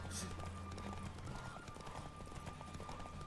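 Hooves of Roach, a horse in The Witcher 3, clip-clopping in a steady galloping rhythm, faint and low in level beneath game ambience.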